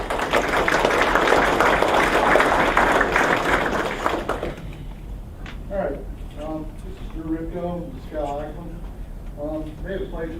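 Audience applause for the parents at a 2022 sports banquet: dense, loud clapping fills the first four seconds, then fades as a voice begins speaking over a quieter room.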